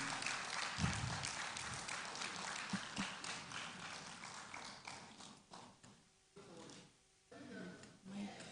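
An audience at an MBA entrepreneurship expo claps for a presenter, a dense patter that fades into sparse, scattered claps, with faint talk in the background near the end.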